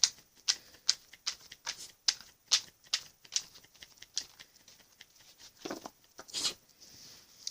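Tarot cards are shuffled close by, a quiet, rhythmic run of crisp riffling clicks and soft patters repeating for several seconds.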